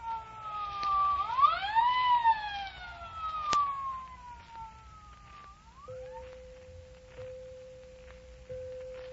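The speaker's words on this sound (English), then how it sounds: "The siren came, and the ambulance appeared" An ambulance siren wails, rising and falling in pitch, then settles into a steady held tone, moderately distant with no talking.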